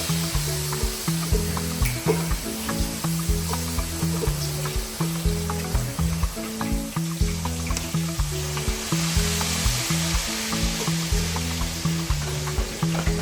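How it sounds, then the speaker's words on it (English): Ghanaian yam pieces fry in hot oil for crispy yam fries, a loud close sizzle layered with a rhythmic background beat that runs the whole way through. "Then I'm going to add the the sauteed yam in the oil."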